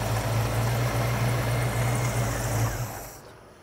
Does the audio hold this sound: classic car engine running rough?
yes